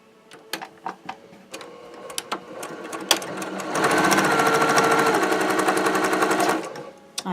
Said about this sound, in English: we're going to do is to sew on those 2 furthest away edges